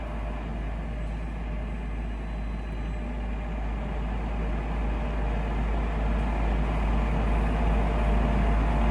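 A bed-type SIA Italy vertical milling machine with a 2200 by 500 mm table moves forward at rapid travel, making a loud, steady motor and drive drone that builds slightly over time.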